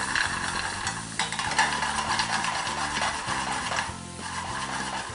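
Garlic stirred in a hot frying pan for Spanish tapas, a steady sizzle with the scrape and clack of a utensil against the pan, close and continuous with no voices.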